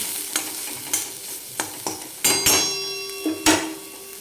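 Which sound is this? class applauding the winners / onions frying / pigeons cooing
onions frying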